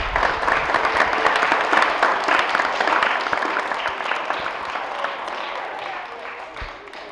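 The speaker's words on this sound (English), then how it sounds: "so I want to give everyone a round of applause." Students and guests at a DARE class graduation in a Batavia Middle School hall break into loud, dense clapping that gradually thins and fades toward the end.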